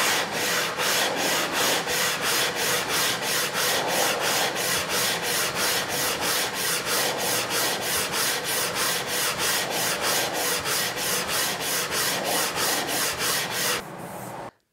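Wood is sanded by hand during surface finishing, a rhythmic scrubbing with quick even strokes repeating steadily and close up for the whole stretch before stopping abruptly at the end.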